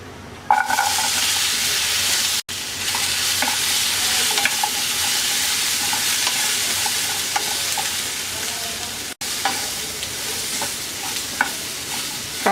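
Jackfruit seeds fry in hot oil and are mixed with onion and garlic, giving a loud, steady, close sizzle broken by light spatula scrapes and clicks throughout.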